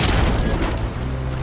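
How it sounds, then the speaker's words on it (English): A loud, close boom from an explosion in Horizon Forbidden West on PS4 Pro, a dense blast that rumbles on briefly as it fades. "It's gonna explode any second."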